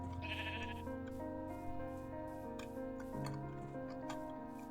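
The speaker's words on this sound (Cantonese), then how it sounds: "哎，有羊啊" Sheep bleat in the video game Minecraft, a few short bleats set against a steady, sustained tonal game background at low volume.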